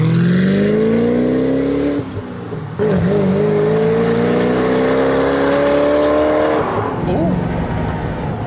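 A 1,000 bhp Koenigsegg CCX hypercar engine droning loudly inside the cabin while driving, with a rising tone that climbs through the gears and a few brief dips at shifts. A person makes a short exclamation over it.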